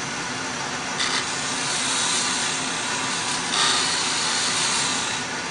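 A wooden coffee scoop on a lathe under a peeling cut gives a steady, close rasping hiss, with two brief louder scrapes as the tool bites.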